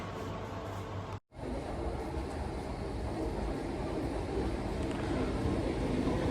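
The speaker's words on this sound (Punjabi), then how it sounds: "ਇਹ ਆ ਇੰਗਲੈਂਡ ਦੀਆਂ ਟ੍ਰੇਨਾਂ" An English train rumbles past close by in the UK, a steady loud roar and rattle of wheels and carriages that holds throughout after a brief break near the start.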